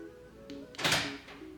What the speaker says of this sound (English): you will hear the doors actuate